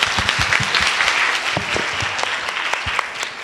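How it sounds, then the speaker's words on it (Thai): Steady applause from a classroom audience clapping for a fellow student, dense and continuous with a few louder individual claps, no talk over it. "ปรบมือให้เพื่อนหน่อย"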